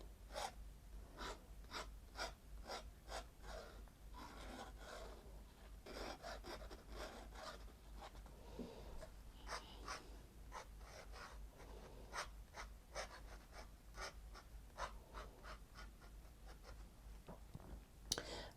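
An ink pen scratches across paper while drawing big leaves in a watercolor journal, making quiet, close, rhythmic strokes with short pauses between them and no talking.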